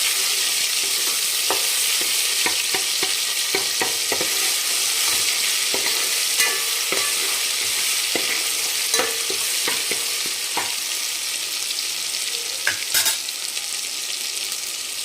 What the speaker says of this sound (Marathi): हे आपण थोडंसं हिरवं वाटण ठेवलं होतं आलं लसूण आणि कोथिंबीरची पेस्ट ते टाकून घेणार आहे आणि कोथिंबीर तेलामध्ये